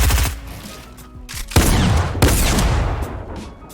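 Tactical shotgun blasts in Fortnite: two loud, sharp booms about half a second apart, each with a fading tail, over faint game background sounds. There is no speech.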